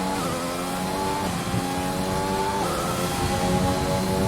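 An F1 race car in a Formula 1 video game, qualifying at the Mexican Grand Prix, accelerates hard. Its loud, steady engine whine climbs in pitch and drops briefly at each upshift.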